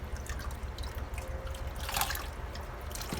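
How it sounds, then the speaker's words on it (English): Water is poured over a puppy's body during its first bath, a soft continuous trickle and dribble splashing at moderate distance, with no voices. "I just want him to get used to the sensation of having water poured on him"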